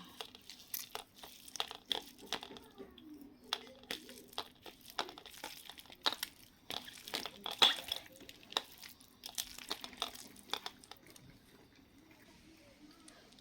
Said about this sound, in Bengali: অল্প লবণ, কিছুগুলো পেঁয়াজ কুচি আর একটা শুকনো লঙ্কা, এটা দিয়ে এটা মেখে নেব